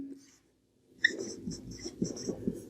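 Pen or marker strokes on a board during a database lecture, a quick series of short scratchy marks in uneven rhythm, close and moderately loud with a faint low hum behind and no talking.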